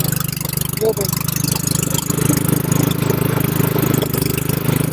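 The engine of an Arjun back rotary tiller runs at a steady, loud throb in a paddy field, a constant low hum with a faint watery churn.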